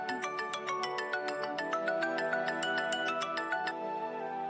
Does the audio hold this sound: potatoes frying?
no